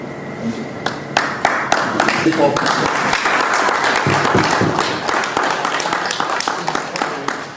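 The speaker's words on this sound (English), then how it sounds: "Only 5 claps." A crowd at a school alumni reunion applauds steadily, many hands clapping together in a dense, sustained burst that continues throughout at a fairly close, loud level.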